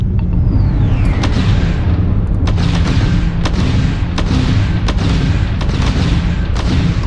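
Spaceship weapons in Starfield fire in a steady run of sharp blasts and explosions over a constant loud rumble of engine and combat noise, with no voices.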